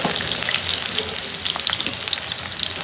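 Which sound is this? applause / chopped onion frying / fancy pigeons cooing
chopped onion frying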